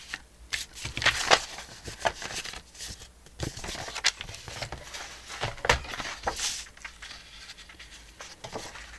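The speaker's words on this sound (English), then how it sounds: "And then I'll trim around it." Scissors trimming around a glued paper piece for a pocket card, producing a series of close, quiet snips and rustles of paper in an irregular rhythm.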